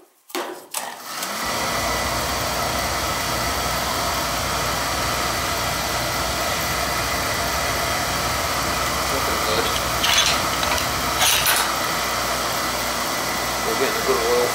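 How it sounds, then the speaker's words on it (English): A Beckett oil burner on a home heating system fires up with a sudden start, then settles into a steady, loud whooshing roar that carries on continuously, with brief faint clicks partway through. "Getting a good oil flow. It's firing up good."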